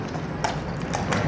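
Horse hooves clop on a hard surface in hot weather, a few steady irregular strikes close by over a dense, noisy outdoor background.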